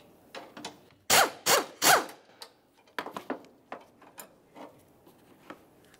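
A ratchet works the pair of 10 mm bolts on the battery hold-down rod of a 2000-2006 Chevrolet Tahoe, giving close, sharp clicking bursts in quick groups followed by lighter scattered metallic ticks.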